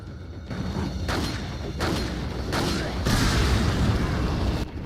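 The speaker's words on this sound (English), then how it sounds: "Hold up, I'm gonna grenade them." A grenade explodes among enemies in the original Resident Evil 4, a loud boom followed by rumbling blasts and crackling debris over several seconds, close and dense.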